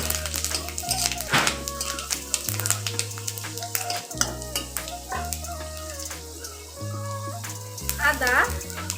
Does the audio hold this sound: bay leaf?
yes